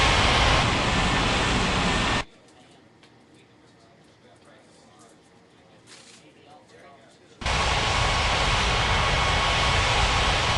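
Jet airliner engines rumble while an aircraft taxis in an air traffic control video game. A loud, steady broadband roar drops away to near quiet for about five seconds, then returns at full strength.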